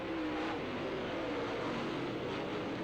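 Late model race cars roar around the oval at Challenger Raceway, a steady, loud wash of engine noise with a sustained droning tone and no break across the short stretch.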